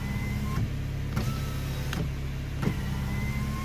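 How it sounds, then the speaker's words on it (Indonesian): Electric power window in a car raising and lowering the door glass, a steady close motor whir running throughout with repeated brief clicks as the switch is pressed, no voices. "Di sini ada yang namanya power window, dimana gunanya power window ini adalah untuk menaikkan atau menurunkan kaca"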